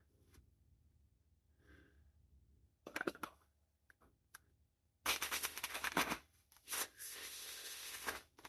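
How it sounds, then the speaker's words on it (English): Oracle cards are shuffled close up in a quiet room, with crisp riffling bursts separated by pauses, building to a longer dense flurry of rapid card flicks near the end. "Okay, I'm going to give this like one more good shuffle."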